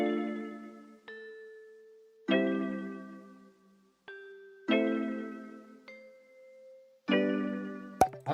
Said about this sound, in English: For some texture, I added another bell.